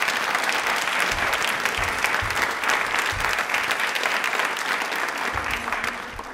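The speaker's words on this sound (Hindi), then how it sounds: "तालियां प्लीज बजाते रहिए।" Sustained audience applause at a tribal pride day quiz event, dense and steady clapping from a crowd throughout, fairly loud and continuous with no speech over it.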